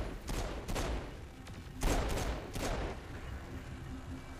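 Gunfire in Saints Row: The Third comes as several fairly quiet, sharp bursts spaced across the span, each shot ringing out briefly before fading into low background game noise.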